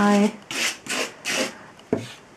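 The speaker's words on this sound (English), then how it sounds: "if I have too much paint, I just take it away with the scraper" A paint scraper drags excess paint across paper in a few short rasping strokes, close and fairly quiet, after a brief hum at the start.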